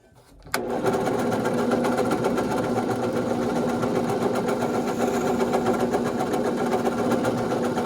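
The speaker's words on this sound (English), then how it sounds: "So the next step is just to drill those out." A small power drill starts abruptly and runs at a steady, high whine, boring out two marked dots. It stays close and loud without pause to the end, with no talk.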